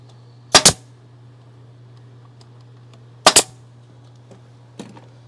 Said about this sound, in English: And we're just gonna shoot a couple brad nails in it.